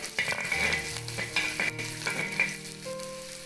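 Chopped ginger and garlic fry in hot oil, a close continuous sizzle with clinks and scrapes of a spoon against the pan, and a faint steady hum underneath; nobody speaks.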